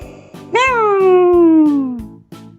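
A cat gives one long, drawn-out meow that slowly falls in pitch, with a soft rhythmic background pattern around it.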